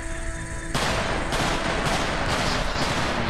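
Heavy gunfire from a PayDay 2 heist shootout crackles almost continuously, loud and close, with dense overlapping bursts after a brief lull.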